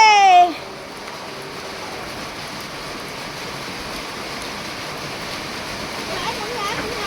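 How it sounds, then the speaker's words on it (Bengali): Heavy rain pours down in a steady, dense hiss that stays loud and close throughout, after a brief high tone at the very start. "আই বৃষ্টি ঝেপে।"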